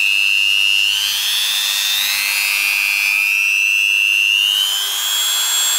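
A high-speed rotary tool, set up for knife sharpening, runs steadily with a loud, piercing whine that climbs gently in pitch as it is switched up through its speeds, with no other sound alongside it.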